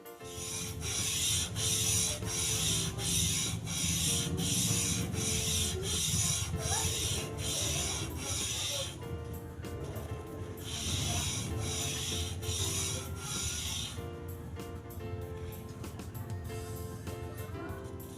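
A hair clipper blade is sharpened by rubbing it back and forth, producing continuous loud rasping and scraping strokes in a regular rhythm up close, with a short pause partway through.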